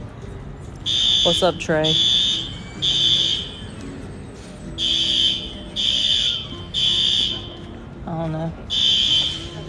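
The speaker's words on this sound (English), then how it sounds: "Somebody's fire alarm just went off." A fire alarm inside a building in Savannah beeps in a regular on-off pattern of piercing tones, loud and close, while people talk over it.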